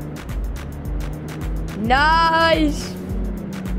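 A car engine in the City Car Driving game roaring at speed, a steady loud drone with a rising whining rev sweep in the middle as it accelerates, while someone speaks briefly over it.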